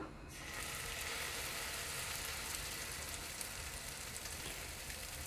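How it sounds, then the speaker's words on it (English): Malpua batter hitting hot ghee in a pan gives a steady, close sizzle that starts almost at once and holds as an even, bright hiss throughout. "So our ghee is completely hot now, and I'm going to add the batter."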